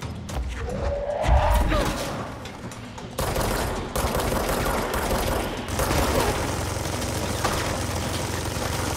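Gunfire in the video game Control, with bursts of rapid shots and impacts layered over a steady game ambience, loud and close, with some heavy thuds mixed in.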